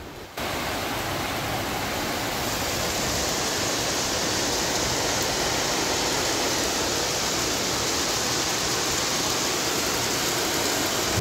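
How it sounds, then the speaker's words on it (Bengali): Heavy monsoon rain pours down in a dense, constant roar that starts abruptly and continues unbroken. "শুনতেও পেলে যে কতটা জোরে বৃষ্টি হচ্ছে"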